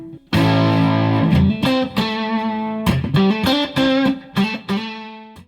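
A Squier Sonic Strat electric guitar on its neck pickup with a touch of reverb, strummed chords and single notes ringing out clearly and up close, with short pauses between phrases.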